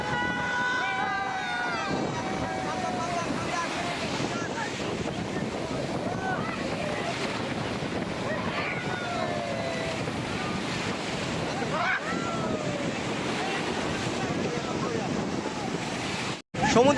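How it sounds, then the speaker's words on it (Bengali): Heavy surf roars and crashes continuously at Guliakhali Sea Beach while wind buffets the microphone, with faint voices now and then beneath the churning water. "আজকে প্রচুর উত্তাল এবং প্রচুর ঢেউ আসতেছে"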